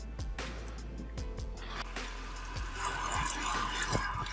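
Tap water runs steadily over a deer heart held under a sink faucet to flush out blood, a continuous splashing rush that swells louder toward the end, with occasional faint knocks.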